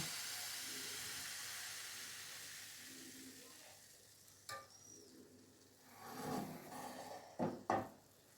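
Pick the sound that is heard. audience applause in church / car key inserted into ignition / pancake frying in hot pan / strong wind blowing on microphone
pancake frying in hot pan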